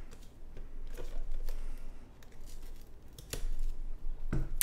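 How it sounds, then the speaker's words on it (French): Plastic blister wrap being picked at and peeled off a Super Mario steelbook, close-up crinkling and sharp crackling snaps coming in irregular bursts, with no talk. "On va enlever le petit blister et on va voir à quoi ça ressemble sans tout ça"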